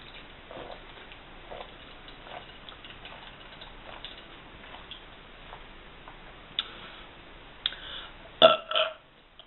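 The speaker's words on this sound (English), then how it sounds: "I'm going to burp for you" A girl lets out several burps toward the end, loud and close, after a long stretch of quiet with faint ticking in the background.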